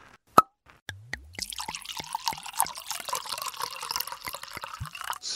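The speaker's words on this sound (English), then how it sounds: "I crack open a beer and pour my co-workers a traditional Chardonnay." A can pops open with a sharp snap, followed by liquid glugging and splashing as wine, a Chardonnay, is poured into a glass; close, quiet, with dripping plops and no talk.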